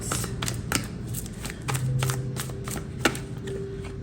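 Quick riffling and tapping of a deck of tarot cards being shuffled up close, a few sharp snaps and clacks, with no talking.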